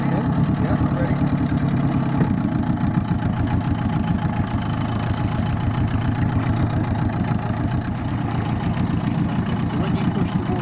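A sailing yacht's engine idling, a steady close chugging rhythm that continues without a break, with people talking over it.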